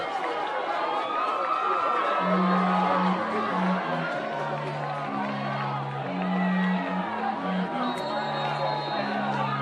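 Large home-side crowd at a high school football game, a steady murmur of chatter and cheering under a nearby announcer's voice, with some faint music tones.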